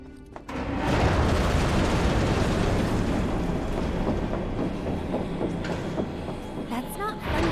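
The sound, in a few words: train in video game Final Fantasy 7 Remake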